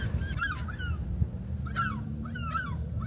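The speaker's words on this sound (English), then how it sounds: "Lovely sound of the birds." Birds honk in harsh, goose-like calls on a deserted beach early in the morning, three separate bursts at moderate distance over a low steady rumble.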